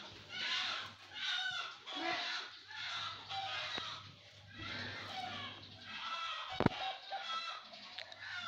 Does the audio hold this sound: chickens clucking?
yes